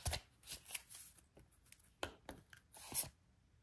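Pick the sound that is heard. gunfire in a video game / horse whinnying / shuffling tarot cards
shuffling tarot cards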